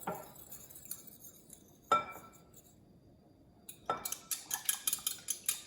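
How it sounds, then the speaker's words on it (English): Graham crackers, sugar and butter being stirred together in a bowl for a cheesecake crust, giving irregular scraping and clinking of a utensil against the bowl, with sharper taps and clicks at the start and a quick run of them near the end. "I'm going to slowly mix in the butter. Get the graham crackers and the sugar good and mixed there."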